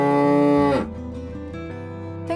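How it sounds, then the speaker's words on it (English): A cow gives one loud, deep moo that holds steady, then slides down and trails off into a lower rumbling tail, heard up close with no talk. "milk cow."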